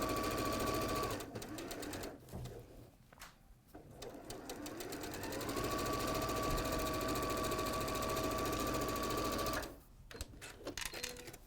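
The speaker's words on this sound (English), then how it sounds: "seams that I'm sewing now between each block, do exactly that." A sewing machine stitches quilt block seams in fast, steady mechanical bursts with a whirring hum, broken by short pauses, close and fairly loud.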